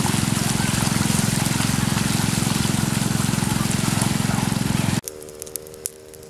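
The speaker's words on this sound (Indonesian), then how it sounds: "ini airnya mengambil dari Sungai Cisinggarung dengan cara menyedot" A motorized pump draws water up from the Cisinggarung river near onion fields, giving a loud, steady droning hum that cuts off abruptly near the end, leaving quieter outdoor sounds.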